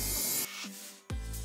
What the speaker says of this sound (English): This is Snow White Montana Black spray paint I'm using for the white here.